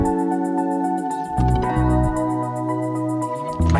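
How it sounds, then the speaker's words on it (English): A tambourine shaking in a steady rapid pattern on top of a full, mellow song arrangement, its bright jingles riding above the chords and bass for the whole passage. "again, using the tambourine with that, which sounds like this."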